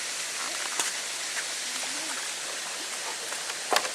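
A river in Ohio rushes steadily and close by, a continuous broadband wash of flowing water with a few faint ticks and splashes on top.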